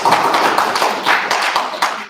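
Applause at a school board of education meeting, a dense, loud burst of many hands clapping steadily for about two seconds in a large room.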